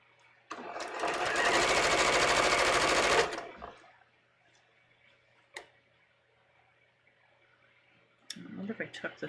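A sewing machine runs in one loud, rapid burst of stitching along a swimsuit hem, then stops, leaving quiet handling clicks and soft rustles, with someone speaking briefly at the end.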